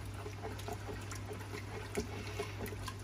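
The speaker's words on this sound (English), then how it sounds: "I'm going to deglaze the pan" Red wine poured into a hot Instant Pot pressure cooker pan to deglaze it while making beef bourguignon, a steady close liquid pouring and fizzing hiss with a constant low hum beneath.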